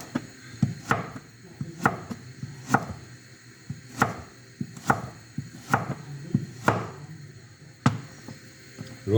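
A knife chops through pork cubes on a board for a sweet Thai dish, the blade getting dull: about nine sharp, evenly spaced thuds, close and distinct, with no talk.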